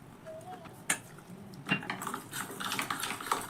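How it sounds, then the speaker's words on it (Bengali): Flour is whisked with water into a thin batter in a bowl, starting with a few sharp spoon clinks against the dish and then moving to busy, close stirring clatter and light scraping. "এবার অল্প অল্প করে জল দিয়ে ময়দার একটা ঘোল রেডি করব।"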